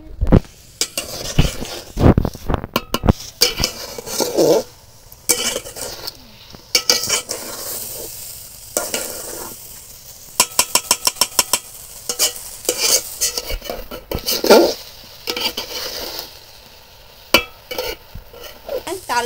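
A utensil stirs and sautés rice and lentils in a pot for Bengali chicken khichuri, giving irregular bursts of scraping, clinking strokes over a soft sizzle, with quiet pauses between.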